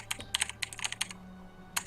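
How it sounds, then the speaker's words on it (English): Heavy, close typing on a computer keyboard during a livestreamed game match, bursts of sharp keystrokes separated by short pauses over a low hum. "We hear heavy typing in there."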